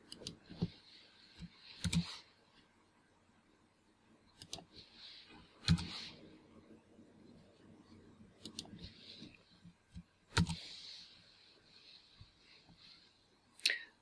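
Letters typed on a computer keyboard come as short clusters of crisp, close clicks separated by brief quiet gaps, several bursts of quick keystrokes in a quiet room, no voices.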